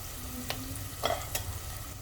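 Green chilies and grated ginger frying in a pan for cauliflower curry, a low steady sizzle with a couple of quick scraping stirs of a spoon, close and brief, no speech.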